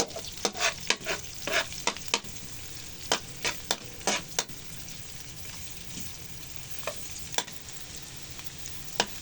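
Vegetables for pakbet sizzle in a pan with garlic while a utensil stirs them, giving a steady frying hiss under frequent sharp scraping and clacking strokes, busier at first and then more spaced out, with no voices.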